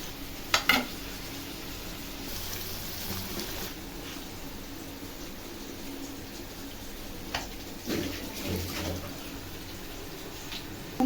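Vegetable stems fry in a pan while a utensil stirs them, giving a quiet, steady sizzle broken by occasional scrapes and clinks of metal against the pan.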